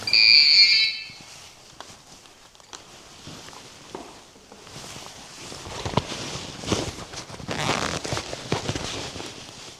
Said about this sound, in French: Vivien, ses pods, ils sont cool, mais ils font du bruit